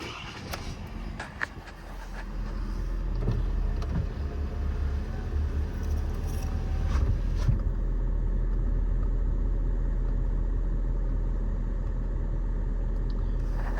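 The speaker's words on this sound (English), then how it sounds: "I'm gonna hop in the truck and take it for a quick spin" A 2022 Ford F550 diesel service truck's engine rumbles steadily at close range, swelling after a couple of seconds into a sustained drone as the truck gets moving.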